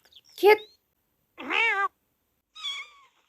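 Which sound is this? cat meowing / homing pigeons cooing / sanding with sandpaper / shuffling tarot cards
cat meowing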